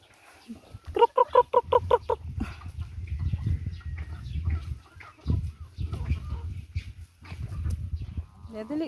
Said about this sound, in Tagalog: Yan yung ibang mga manok.